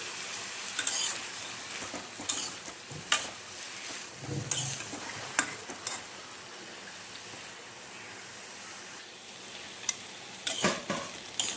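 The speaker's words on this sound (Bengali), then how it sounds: "এই যে করলা ভাজা এরকম হয়েছে, আর একটু ভাজা হবে।" Bitter gourd and potato slices frying in a pan with green chilli, salt and turmeric, giving a soft, continuous sizzle broken by occasional scrapes and clatters of a spatula stirring, fairly quiet overall.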